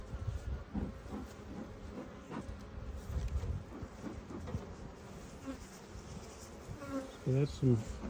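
Honeybees buzz steadily through an open-hive inspection of a beginner's colony, a dense drone close by with brief low sounds of frames and handling, and a few soft voices near the end.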